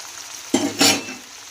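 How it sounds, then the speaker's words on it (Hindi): Chicken sizzles in a small frying pan as it is stirred, with a couple of scraping, hissing bursts over a quiet background. "इधर हमारा चिकन अच्छे से फ्राई हो चुका है"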